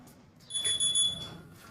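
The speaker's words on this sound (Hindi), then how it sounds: "again alarm" A smoke alarm beeps in high, thin pulses in the middle of the clip, faint and somewhat distant over a quiet room.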